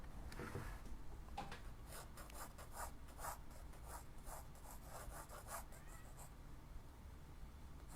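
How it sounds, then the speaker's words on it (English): A B pencil rubbing across paper in a drawing lesson, soft scratchy strokes repeating in quick bursts, faint and close with no voices. "I'm still using my B pencil."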